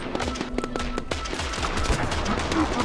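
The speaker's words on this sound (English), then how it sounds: "Come on, Gatling gun." Gatling guns firing in the video game Totally Accurate Battle Simulator, with a rapid stream of loud overlapping shots and booms that continues without a break.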